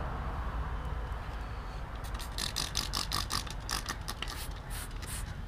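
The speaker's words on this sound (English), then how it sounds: "turn my sprayer on first." A steady mechanical hiss runs throughout, joined halfway by rapid rattling, clicking bursts from a motor-driven detailing sprayer working close by inside a 2014 Ford Edge.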